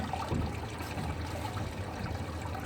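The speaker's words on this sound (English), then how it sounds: "we got clear water flowing now" Clear water flows steadily through a freshly cleared clogged drain, a continuous close rushing trickle with no pauses.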